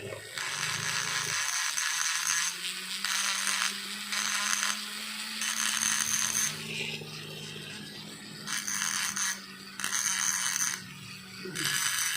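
Yamaha NMAX CVT parts are scraped smooth by hand, making rhythmic rasping strokes in repeated bursts with short pauses between them, close up, over a faint steady hum.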